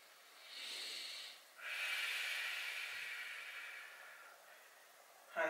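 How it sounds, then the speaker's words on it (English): Two slow, deep breaths during yoga stretching, a soft airy inhale followed by a longer hissing exhale, close and alone with no talk. "Deep breathing here"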